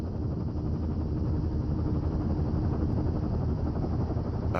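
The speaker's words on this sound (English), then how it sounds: "There's the helicopter. They'll land back where you hiked up." A helicopter in the Firewatch game drones with a constant low rotor rumble and steady engine hum at close range for several seconds, with no voices over it.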